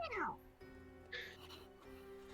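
A cat meows loudly, with one sharp falling cry at the start, then a shorter, higher mew, over a faint steady hum and low background noise.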